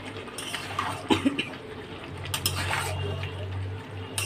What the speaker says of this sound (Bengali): চলো তাহলে মাংসটার একটু নাড়া দিয়ে দিই